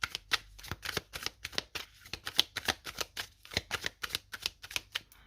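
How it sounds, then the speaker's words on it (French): Tarot cards are shuffled by hand in a fast, close run of crisp riffling flutters and slaps, sounding alone with no talking. "on commence par prendre 2 cartes pour voir vos énergies à vous"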